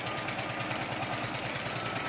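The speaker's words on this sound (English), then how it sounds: "I'm just doing regular stitching down binding at the moment" A sewing machine stitches down quilt binding with a fast, steady, rhythmic whirring and clatter that runs without a break, close and moderately quiet.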